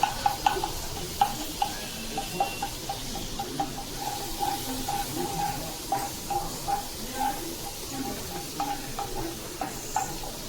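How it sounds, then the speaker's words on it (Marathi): Garlic and then onion fry in a pan for a white sauce pasta, giving a steady close sizzle with regular scraping and stirring clicks over the top. "बघा इथे आता लसूण टाकायचा, 2 मिनिटं परतायचा आहे आणि आता कांदा टाकायचा."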